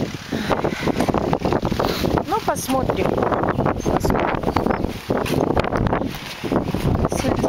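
Strong gusty wind buffets the microphone in an outdoor garden plot in May, roaring steadily throughout while someone speaks briefly over it.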